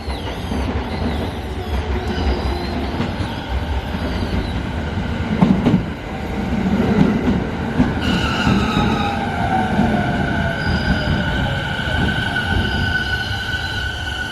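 A train rolls through Yokohama with a steady rumble and clatter of wheels on rails. Partway through, a high metallic squeal and rising whine join in as it travels and slows, heard close from on board.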